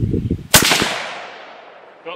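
A single loud 6.5 Creedmoor rifle shot fired with Norma Whitetail ammunition at a 100-yard range, a sharp crack followed by a long fading echo, with faint talk just before it.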